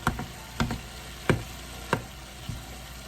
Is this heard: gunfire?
no